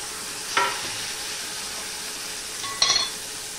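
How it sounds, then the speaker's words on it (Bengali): Chopped tomatoes hit a hot spice tempering in oil for a pumpkin vine stalk and leaf vegetable dish, giving a steady close sizzle with two short, sharper hissing flare-ups as they are stirred. "সেই টমেটোগুলো আমি দিয়ে দিলাম ফোড়নে"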